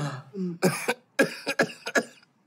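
A person coughs in a quick series of dry, harsh bursts, several close together, loud and near with no talk.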